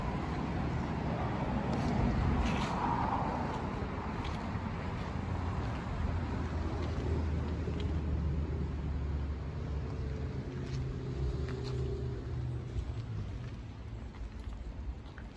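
The engine of a 1967 Ford Fairlane police car idles with a steady low rumble close by, its exhaust droning throughout with faint background noise.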